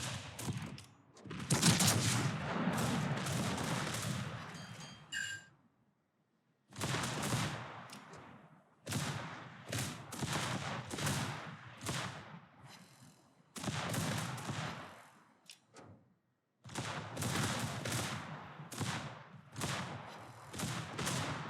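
Heavy naval gunfire from a Tier 10 battleship in World of Warships, the Libertad, booming in repeated rolling salvos with crackling impacts, separated by brief silent pauses, loud and close with no talking.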